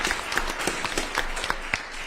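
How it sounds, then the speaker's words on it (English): Dense, steady applause from a crowd at a city council meeting honoring a high school's first graduating class, many hands clapping at once without a break, fairly close and loud. "give him a big round of applause on that"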